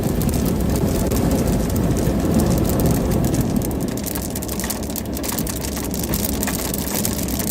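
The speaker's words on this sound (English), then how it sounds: "Heaviest rain yet." Heavy monsoon rain pours down in a steady, dense roar, loud and close, with no voices over the constant wash of falling water.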